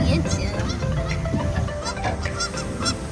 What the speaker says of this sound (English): there's some geese over there making some noises